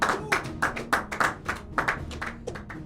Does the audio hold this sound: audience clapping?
yes